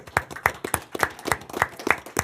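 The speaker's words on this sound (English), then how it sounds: "I'd like to give Diane a round of applause" Sparse round of applause at a Roy City Council meeting honoring Diane: a handful of people clapping in loose, distinct claps, fairly close and clear, with no talking over it.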